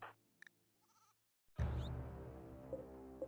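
A goat in the colony-building game RimWorld lets out a loud, drawn-out bleat after a few faint game clicks and tones, close and clear with no talk over it.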